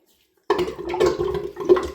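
Water gushing and splashing in a bathroom sink as the plug is pulled after a razor shave, a sudden loud rush that starts after half a second of silence and keeps churning with gurgling swells.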